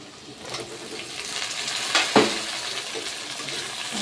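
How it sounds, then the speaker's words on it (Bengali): Chopped tomato goes into a pan of frying ginger and garlic, setting off a loud burst of sizzling and stirring that settles into a steady close hiss, with no talking. "এখন দিয়ে দেবো আমি টমেটো, এই যে টমেটো কুচি"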